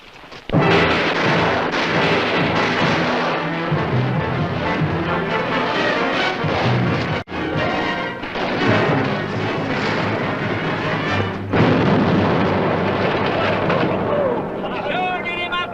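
Gunfire in a mock backyard battle, bursts of loud booming shots and blasts in quick succession, with shouting voices mixed in throughout.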